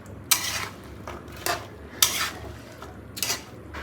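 A spoon stirs and scrapes a pot of prawn, eggplant and potato curry with spices, making four separate clinking, scraping strokes at an even pace. The sounds are close and fairly quiet.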